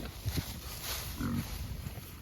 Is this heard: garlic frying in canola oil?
no